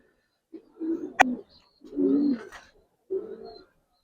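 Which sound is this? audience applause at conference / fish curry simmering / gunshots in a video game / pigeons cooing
pigeons cooing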